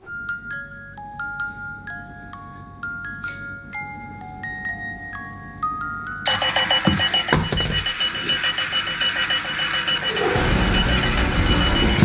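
A runaway alarm clock rings with a repeating electronic beep melody, then breaks into loud rattling, whirring motor and bumping as it drives off around the room, the clatter growing noisier toward the end.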